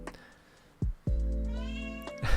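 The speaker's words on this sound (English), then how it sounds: "my cat." A pet cat meows twice up close in a quiet room, short calls followed by a longer drawn-out meow, clear and alone with no talking.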